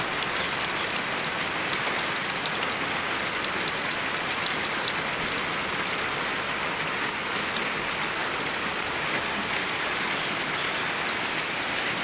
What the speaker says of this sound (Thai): ฝนตกใช่ป่ะ ฝนตกทั้งวัน